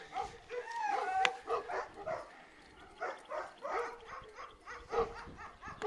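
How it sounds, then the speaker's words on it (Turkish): Several dogs bark and yip back and forth in rapid bursts, fairly close, with some whining mixed in. "Her, her gün böyle birbirlerine havlıyorlar işte"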